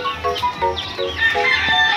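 Backyard chickens clucking nearby in a rhythmic series of short calls, with a higher drawn-out crow-like note layered over steady outdoor background noise.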